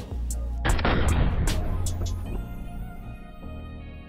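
A sharp, heavy boom of video game gunfire bursts out and rolls into a long fading rumble, with a few fainter cracks scattered around it.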